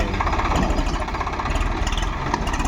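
A 50 hp tractor engine runs close by with a steady, loud mid-pitched throb and no break in its chugging rhythm.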